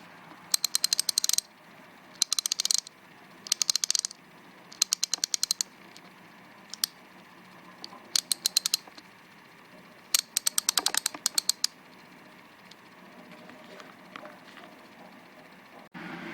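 A Craftsman 75th Anniversary 22k gold-plated 3/8-inch drive ratchet clicks in repeated quick bursts of fine metallic ticking, separated by short pauses, close and fairly quiet.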